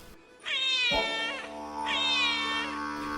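A cat meows twice, each a clear drawn-out cry with a pause between, close and loud against a quiet background.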